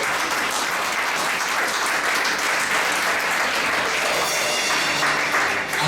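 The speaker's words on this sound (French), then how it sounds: "On acclame très fort" A large church congregation applauds loudly and steadily, dense clapping filling the space without a break from start to finish, no voices standing out.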